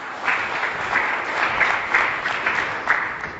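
Sustained applause from a conference audience, dense steady clapping with slight swells, fairly loud and close, no talk over it.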